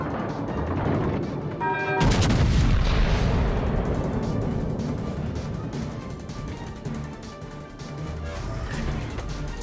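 Warship main batteries firing in World of Warships: Legends, a heavy booming salvo after a brief radio voice, then a long rumbling roll of continued artillery and distant explosions.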